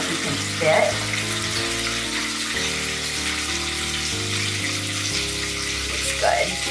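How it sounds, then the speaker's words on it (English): Chicken deep-frying in hot oil, a steady loud crackling sizzle that runs throughout, with background music playing underneath. "add in the rest of the chicken, and you can hear that crackling sound"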